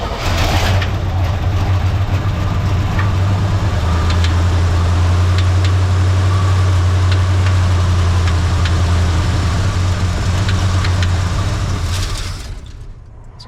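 A 1960 Chevy K10 truck engine, hot-wired with a freshly primed carburetor and in neutral, starts and settles into a loud, close, uneven idle with a miss, running steadily before cutting off at the end.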